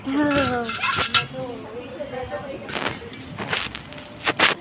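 Metal spoon clinks against dishes at a picnic outing on a green field, a few sharp taps scattered among nearby conversation, with people talking throughout.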